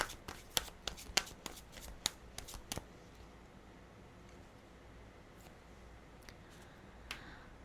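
Tarot cards being shuffled and drawn: a quick run of sharp, crisp riffling snaps close by, then a few softer isolated flicks as single cards are laid out in a quiet room.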